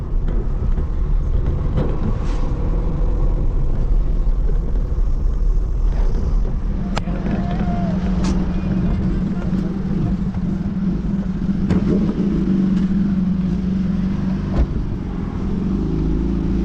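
Steady road rumble of a car travelling on a highway between Bangalore and Shivamogga, a continuous low drone with faint ticks and passing swells, close and unbroken, no talking heard.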